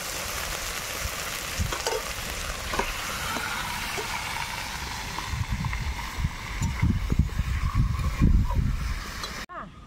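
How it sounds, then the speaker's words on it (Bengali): Washed chicken pieces fry and get stirred in spiced oil, a broad steady sizzle with scraping and thumps of the spoon building toward the end, and voices faintly underneath. "এবার আমি ধুয়ে রাখা মাংসটা আমি দিয়ে দিই।"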